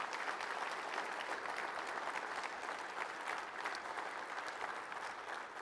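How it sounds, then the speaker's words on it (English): Sustained applause from a union summit audience, dense and steady clapping throughout without pause, heard at moderate distance. "please give them a round of applause for everything they do for this union."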